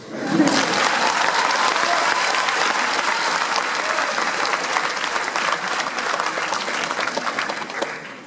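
An audience at an eloquence contest in Versailles gives a long, sustained round of applause, many hands clapping densely and evenly with a faint murmur beneath, easing only slightly toward the end.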